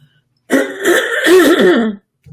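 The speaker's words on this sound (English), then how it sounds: "Hope I don't drive you crazy clearing my throat." A single drawn-out throat clearing, close and fairly loud, lasting about a second and a half with a gravelly rasp, followed by silence.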